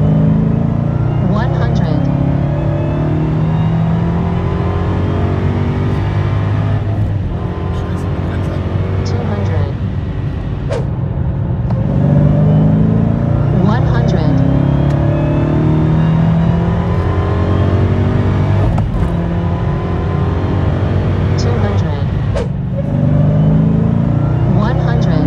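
A Dodge Challenger Hellcat with a manual gearbox accelerates hard from 100 to 200 km/h, its loud supercharged engine roaring steadily with climbing pitch and brief dips at gear changes, heard from inside the car.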